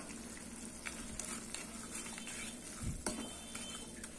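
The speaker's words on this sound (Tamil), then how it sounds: "இப்போ வெல்லத்தை சேர்த்துட்டு நம்ம ஓப்பன்லேயே நல்லா இது கெட்டியாகிற வரைக்கும் வேக வச்சுக்கலாம்" Mango pachadi with jaggery cooks down in an open pan, making a faint, low sizzle and bubbling broken by a few light clinks of a utensil against the pan.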